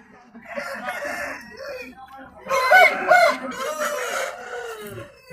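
A rooster with a broad patta comb crows loudly and nearby at the Friday chicken market in Puduchandai, Tiruppur, with other fowl clucking and people talking around it.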